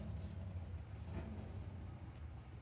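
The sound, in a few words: drag race cars rolling up under the tower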